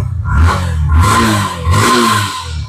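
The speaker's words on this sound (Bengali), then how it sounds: "এই গাড়ি ইঞ্জিন দেখেছেন, আওয়াজ কি দিলে?" A second-hand Yamaha FZ motorcycle engine is revved up close three times in quick succession, each throaty surge rising and falling loudly.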